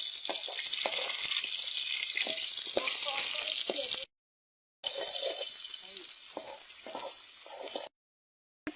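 Water pours into a cooking pot of potato, bean and turnip curry in a steady rushing splash, broken by a short pause, then resumes before stopping again.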